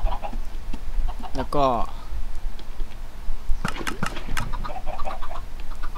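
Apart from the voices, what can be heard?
chickens clucking in the video game Minecraft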